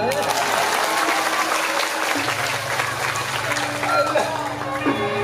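Audience at a Balinese drama gong performance in Nusa Penida, Klungkung, applauding steadily for several seconds, a dense continuous clatter of many hands with tonal music or a held note sounding underneath.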